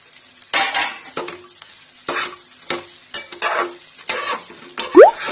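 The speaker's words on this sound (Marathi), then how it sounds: "दोन मिनिटं स्लो आचेवरती व्यवस्थित फ्राय करून घ्यायचे" Kande pohe with onion and coriander stirred and fried on a low flame, rhythmic scraping strokes of a spatula against the pan at close range over a soft sizzle, ending with a bright metallic clink.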